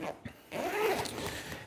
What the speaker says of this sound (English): Very easy, zips up.